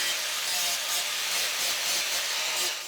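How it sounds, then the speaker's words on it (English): An angle grinder or similar power tool grinds down protruding bolt ends on a scrap-wood retro swivel chair seat pad, producing a steady, loud, bright abrasive hiss with slight pulsing, close by and without talk. "so I'll grind them down a touch."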